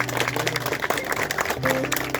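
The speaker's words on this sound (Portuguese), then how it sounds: "Vamos dar uma salva de palmas para Jesus." Congregation clapping together at a church thanksgiving service, a steady dense patter of many hands with faint background music and murmuring throughout.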